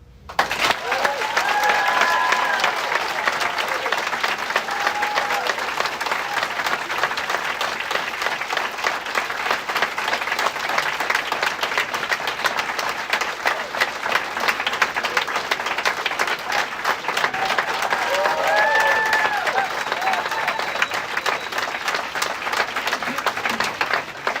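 Audience at a public hearing on an asphalt plant permit gives long, sustained applause, a dense, loud wash of many hands clapping that holds steady throughout, with a few faint voices underneath.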